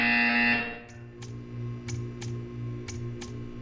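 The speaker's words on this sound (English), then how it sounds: "You will hear a buzzer." A harsh electronic buzzer in a video game sounds loudly for about half a second, then cuts off, leaving a quiet hum and a few soft, evenly spaced ticks afterward.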